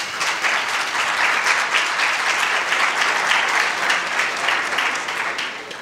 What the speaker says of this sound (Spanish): No me aplaudáis